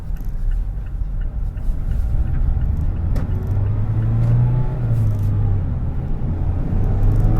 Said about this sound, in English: Today we're going to go on a test drive in the 2019 Mazda Miata.